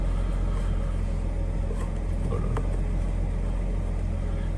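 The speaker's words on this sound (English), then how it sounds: "Engine started up okay. We'll let it run a little bit." A 2017 Ford Police Interceptor Utility engine idles with a steady, even low rumble, close and unchanging throughout, with no voices.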